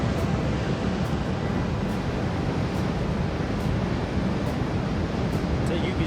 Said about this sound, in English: See the sheer volume of water this dam can release.